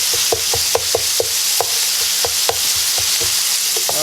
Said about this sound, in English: flip it over to get it brown on all sides